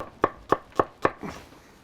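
Knife slicing half a white onion thinly on a cutting board: four crisp, evenly spaced chops close up, then a softer fifth cut, with no speech.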